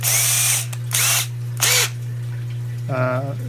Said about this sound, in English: now I'm going to drill the holes that are going to hold my level switches in this piece of plexiglass